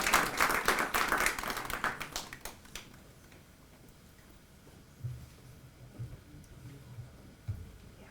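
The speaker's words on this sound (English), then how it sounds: "Let's give them a round of applause." Audience applause for panel speakers at a leadership discussion event, a burst of many hands clapping that fades out after a few seconds, followed by quiet room noise and a few soft low thumps.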